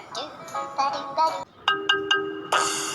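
A phone ringtone plays nearby, a melodic electronic tune of short repeated tones, loud and clear with no talking over it.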